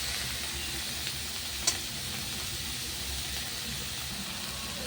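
Steady sizzle and hiss of cabbage frying in a pan for masoor dal, continuous and close, with one brief clink near the start.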